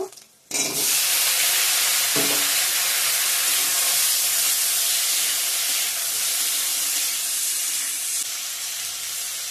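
Tomatoes hit a hot frying pan of oil while cooking masoor dal with drumsticks, setting off a loud, steady hiss and sizzle that starts abruptly after a brief quiet and continues unbroken to the end, with no talking.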